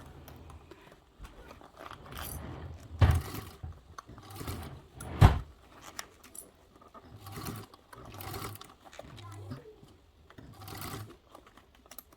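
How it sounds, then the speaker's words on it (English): Quiet home sewing machine runs in short bursts while base stitching fabric with a 1/8 inch seam allowance for a caddy, uneven whirring spurts separated by pauses and a few sharp clicks. "So I'm just going to base stitch this together with a 1/8 seam allowance."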